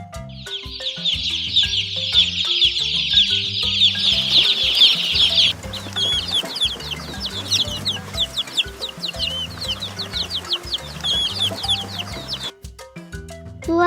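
Chickens cluck in a farmyard, a dense run of close, repeated clucks over music for about four seconds, then scattered, softer clucking continues against the backing music.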